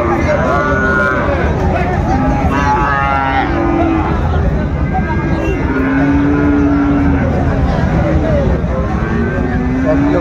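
Cattle at a busy cattle market, likely Sahiwal-breed stock, low and close throughout, with calls that may be moos heard among people talking continuously.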